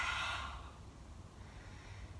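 A single forceful lion's-breath exhale during a home yoga session, tongue out, opens with a loud breathy rush that fades within half a second into quiet room tone.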